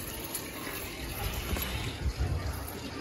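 Running tap water filling for a child's bath, a close steady gushing flow with some low thumps and splashes, no clear speech.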